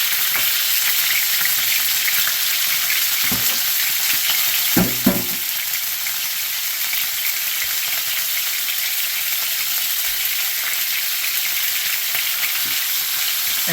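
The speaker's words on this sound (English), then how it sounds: "you're going to want to brown up every single side." Pork carnitas fry and brown in a pan with a loud, steady close sizzle and a couple of brief clatters from turning the pieces, with no talking.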